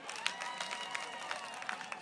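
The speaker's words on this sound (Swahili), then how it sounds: "Nipigeni makofi." Crowd applause and scattered cheering at an outdoor political rally, a dense burst of many hands clapping together with some sharp individual claps standing out, carried steadily across the short stretch.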